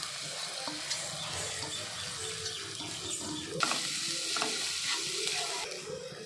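Coconut roasts with a soft sizzle in a hot pan while a utensil stirs and scrapes it, with a few light clinks and no talking.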